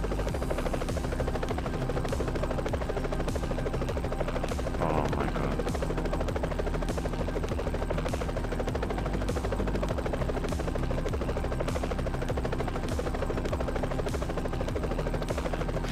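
A helicopter in the video game Pilot Flight Simulation on PS5 drones steadily with a rapid rotor thump and engine buzz, loud and continuous throughout.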